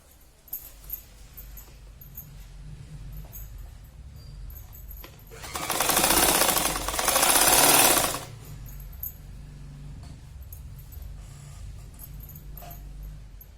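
A sewing machine stitching cloth for a roti cover runs in one loud, buzzing burst of about three seconds with a brief dip in the middle, while the surrounding stretch stays quiet.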